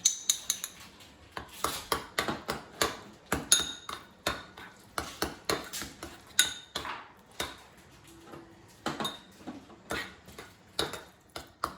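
A utensil clinks steadily against a bowl while avocado sauce with olive oil, lemon, salt and black pepper is stirred together, making quiet rhythmic taps and scrapes close by with no talk.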